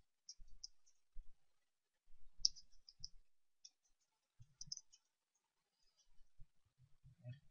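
Several soft computer mouse clicks come in sparse irregular taps during a QlikView spreadsheet session, faint and close, with quiet gaps between them.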